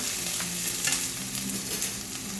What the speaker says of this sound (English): Stir it around so it don't burn or stick, because that skillet was hot.